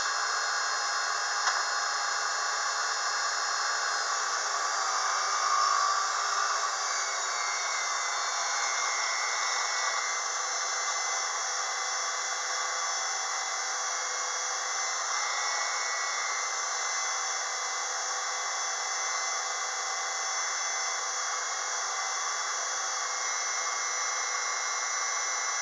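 A Unimat SL1000 mini lathe cutting 304 stainless steel hums steadily and evenly for the whole stretch, with a continuous near machining whine and no pauses.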